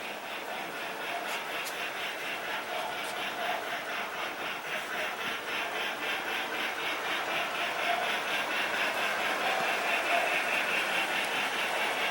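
A model diesel locomotive on a toy layout runs with a steady, even mechanical hum and faint rhythmic pulsing that keeps going, close by and moderately loud.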